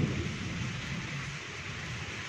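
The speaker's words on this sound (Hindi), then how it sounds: "आवाज़ आई तो बहुत तेज़ बिजली हो रही है, दगड़ दगड़ दगड़ दगड़।" Thunder rumbling through heavy monsoon rain, a steady dense hiss of downpour with a low continuous roll underneath, fairly faint and without speech.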